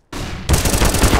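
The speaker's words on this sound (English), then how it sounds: "Throwing flashbang" A flashbang grenade thrown in Counter-Strike: Global Offensive on the de_mirage map: a sharp, loud hiss and pop followed by a dense, harsh burst of noise, close and alone, lasting about a second.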